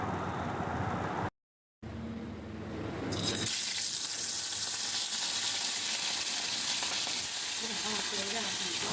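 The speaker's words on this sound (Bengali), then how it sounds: "মাছগুলো ধুয়ে নুন হলুদ মাখিয়ে তেলে ভাজা হচ্ছে" Hilsa pieces, rubbed with salt and turmeric, fry in hot oil, giving a steady broadband sizzle that swells after a brief dropout and keeps going strong and close to the end.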